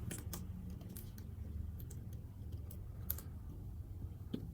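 Quiet typing on a computer keyboard while entering code, soft scattered key clicks over a low background hum, faint and fairly close.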